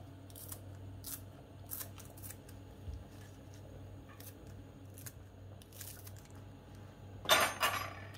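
Fresh parsley is cut for a baked salmon dish, a few soft snips and light taps spread across a quiet kitchen, ending in a brief louder crunchy rustle.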